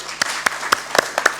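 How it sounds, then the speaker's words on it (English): A small audience at a library inauguration at the University of Nairobi claps sparsely, a handful of separate, distinct claps spaced irregularly over a quiet background. "Let's clap for them."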